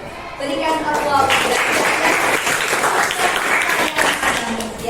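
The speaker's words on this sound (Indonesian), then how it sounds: "Berikan aplaus." A group of teachers and school staff applaud together in a room, a dense, sustained wash of clapping under a speaking voice.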